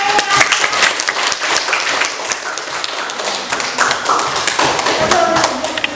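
Students in a classroom clap in applause, a dense run of sharp, close hand claps with some heavier taps, continuing unbroken for about six seconds.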